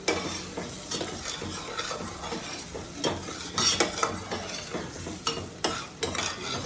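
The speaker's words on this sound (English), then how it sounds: "Let that saute around a little bit." Vegetables and meat sauté in a hot pan, a soft steady sizzle broken by repeated scraping stirs of a utensil against the pan, close and fairly quiet.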